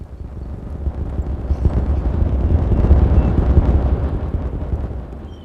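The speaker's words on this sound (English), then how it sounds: "Daytime explosion extravaganza." An explosion in the video game Timberborn makes a low, rumbling blast that builds and swells over several seconds before easing off. It is heavy and dense in the bass, with no talking.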